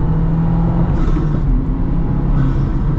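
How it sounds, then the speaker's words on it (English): A Subaru WRX Baja off-road build revs loud and close, its engine a steady throaty rumble held for about three seconds with no talking. "This, you can actually go through the gears a little bit"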